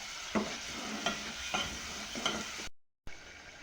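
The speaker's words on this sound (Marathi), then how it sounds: "ही पेस्ट पण छान अशी आपल्याला तळून घ्यायची" Masala paste frying in oil in a pan for a spicy chicken curry, a steady sizzle broken by four regular scraping stirs of a spoon, close and moderately loud, then a brief cut to silence before the sizzle resumes.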